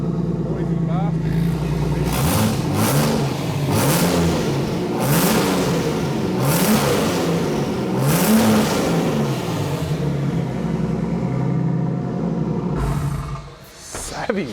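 A race car engine at start-up in a garage revs hard and loud, roaring up and down in repeated surges for over ten seconds before settling, with voices faintly audible around it.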